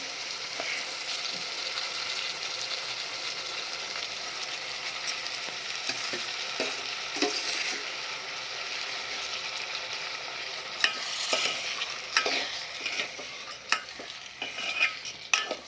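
Millet and split lentils being stirred in a pot, a continuous scraping and gritty rustle of grains against the metal, growing more irregular and knocking toward the end.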